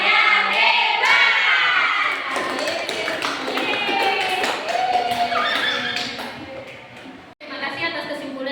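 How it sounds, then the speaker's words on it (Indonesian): Primary school class doing a "tepuk hebat" clapping chant, a rhythmic pattern of quick hand claps mixed with children's chanted voices, close and lively, ending with a brief pause and a final burst. "Yuk, kita tepuk hebat semuanya."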